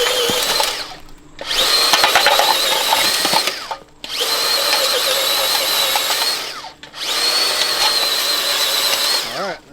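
A Makita 40V power auger bores into root-filled soil in three long, loud whirring bursts, each spinning up, grinding steadily for a couple of seconds, then winding down with brief gaps between.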